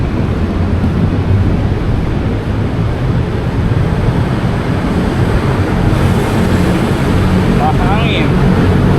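Steady, loud wind roars across the microphone, a broad rumbling gust that fills the whole clip with no letup.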